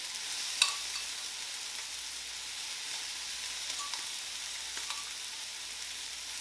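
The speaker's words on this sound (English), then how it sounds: "I go ahead and add my shrimp to the griddle" Shrimp hitting a hot griddle in a seafood dinner, giving a steady close hiss of frying with a sharp pop near the start and a few faint crackles later; no voices.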